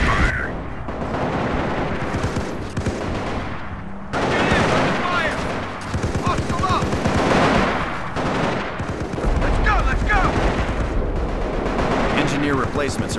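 Machine gun fire and booming artillery crash through a modern US Army versus PLA battle in Company of Heroes, loud sustained bursts broken by heavy blasts, with radio voices speaking throughout.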